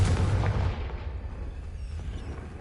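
The Confringo spell in Hogwarts Legacy detonates in a single low, booming explosion that starts loud and rumbles away over a couple of seconds into a fading tail.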